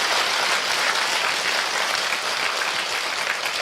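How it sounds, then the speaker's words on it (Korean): A Korean book-festival audience claps hands loudly together, a dense, steady wash of applause that fills the whole moment without pause, with no talking over it. "예, 다시 손뼉을 크게 한번 쳐보십시오."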